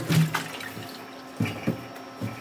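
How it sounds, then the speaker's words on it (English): Water trickles and splashes in short bursts as it is poured into seed-starting mix in 16-cell trays, a few quiet pours separated by brief pauses. "So I'm just going to add water, and I'm just trying to get this mix damp."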